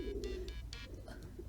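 Pigeon cooing from the game Hiveswap, a few soft low coos repeating over a steady quiet background, with brief brighter chirps mixed in.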